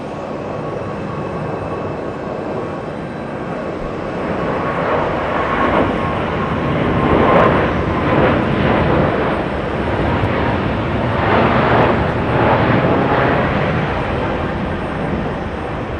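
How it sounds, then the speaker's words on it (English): A Korean Air Boeing 777 rolls down runway 4 left at JFK for takeoff, its jet engines building into a broad, steady roar at moderate distance that swells and lingers. "Korean Air 82, a 777 heading to Seoul in South Korea, getting a move on."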